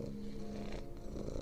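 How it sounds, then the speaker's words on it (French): A cat purrs softly and steadily up close, a low continuous rumbling vibration that stays faint throughout, with no other sounds. "Devant toi donc, tu rencontres un chat magnifique."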